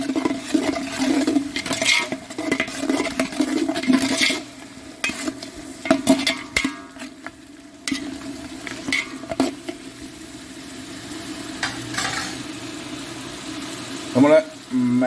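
Ingredients and green spice paste being stirred and fried in a pan, with a steady sizzle and repeated scraping strokes of a spoon against the pan, near and fairly loud, easing off toward the end.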